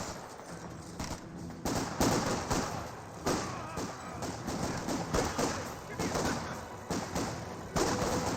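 Gunfire and explosions from a Company of Heroes 2 World War II real-time strategy match play as dense, continuous bursts and thuds, with shots overlapping in loud, rapid succession.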